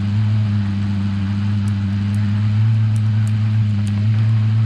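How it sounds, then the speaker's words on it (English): Vehicle engine in Call of Duty Warzone running steadily and loudly throughout, a deep constant drone with a few faint high chirps on top. "the engine's so loud"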